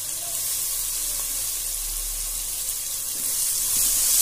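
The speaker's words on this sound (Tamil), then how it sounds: "இப்போ இஞ்சி பூண்டு பேஸ்ட்டு சேர்த்துக்கலாம்." Ginger garlic paste hits sautéed onions in a pan for prawn biryani, giving a steady, close sizzle of frying that holds evenly and swells slightly toward the end, with no talking.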